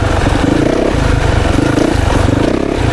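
A 2024 Yamaha YZ 450FX dirt bike engine running on a woods trail, a loud close throbbing rumble with rhythmic surges and some clattering, steady for a few seconds with no voice.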